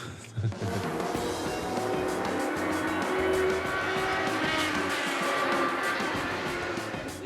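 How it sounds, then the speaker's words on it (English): A fast open-cockpit racing car engine roars steadily for several seconds, a loud sustained mechanical drone with a brief bump near the start. "So it's a very fast racing car with very little protection. Can make a lot of lovely noise."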